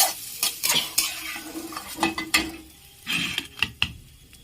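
Egg cutlet mixture is stir-fried with spices in a pan on a gas stove, with quick scraping spatula strokes over a soft sizzle, close and without talk.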